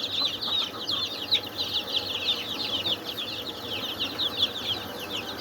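Broiler chickens on a poultry farm keep up a dense, continuous chatter of chirps and clucks that sounds like a large flock close by. Faint background noise runs underneath.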